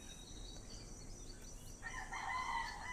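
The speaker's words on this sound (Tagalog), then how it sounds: "Ayan, nakarinig na kami ng tilaok ng manok." A rooster crows at a house in the Philippines, its call rising loud and clear over the second half against quiet background hiss, with no talk.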